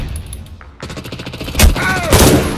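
Gunfire and a grenade blast ring out in an online shooter match, with a sharp crack followed by rapid bursts and heavy booming thuds over about two and a half seconds, loud and close, while players talk.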